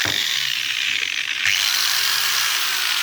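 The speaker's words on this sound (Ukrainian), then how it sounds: "Є така болгарка. Дніпро М." A Dnipro-M angle grinder with a failing armature whines steadily at high pitch, running continuously without pause for the whole stretch, close and fairly loud.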